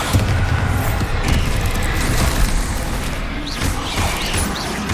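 Bombarda explosion spell in a video game: a loud, continuous roaring blast with rumbling low booms and crackling debris, dense and sustained across the whole stretch with no distinct pauses.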